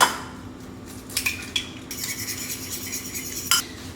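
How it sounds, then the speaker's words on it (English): A fork whisking one egg for an omelet, quick light metallic clicks and taps against a bowl in uneven bursts, close and fairly quiet with no talking. "So I just whisk up 1 egg."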